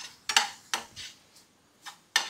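Pots and a pan clatter and clank in a home kitchen sink as they are washed, with several sharp metallic knocks spread apart and quieter rattles in between, close by, no talking.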